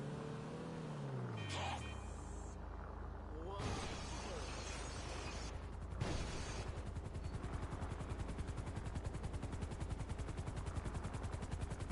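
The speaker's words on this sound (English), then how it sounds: "get a luxury helicopter." Luxury helicopter in GTA Online, a loud, fast rotor chop that builds and settles into a steady rhythmic thrum, preceded by game sound effects including a descending engine tone and sharp crashing bursts.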